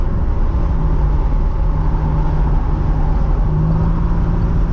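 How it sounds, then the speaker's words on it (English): A 1987 Buick Regal T with a turbocharged V6 rumbles under way from inside, a dense steady low-frequency engine and road drone with a faint whistling tone building and fading, no talking over it. "I love the sound of a turbo when it spools up."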